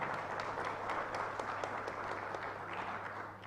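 Audience applause at a tenth anniversary celebration at the BICC in Lilongwe, Malawi, a steady wash of many hands clapping at moderate distance, fairly quiet and sustained, fading slightly at the end.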